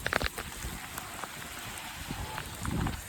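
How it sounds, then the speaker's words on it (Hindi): Heavy rain pours down steadily during a thunderstorm, a dense, continuous hiss and patter of drops striking surfaces nearby, with a few sharper splashes and no voices. "भाई बारिश देखो कितनी तेज हो गई, कितनी तेज बारिश हो गई है, बहुत तेज बारिश हो गई है।"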